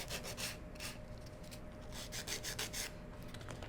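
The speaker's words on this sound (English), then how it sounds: "buffing with our E-file" An electric nail file (E-file) buffing fingernails: short repeated rasping strokes, close and steady over a constant low motor hum, with no talk.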